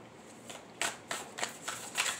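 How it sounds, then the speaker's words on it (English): Tarot cards shuffled by hand after being taken out of their box, giving about five soft, quick riffling bursts in a quiet room, close and fairly faint. "let's grab those out of the tarot box, and let's get some cards"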